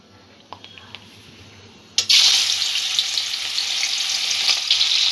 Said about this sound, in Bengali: চিংড়ি মাছটা আমি ভেজে নেব।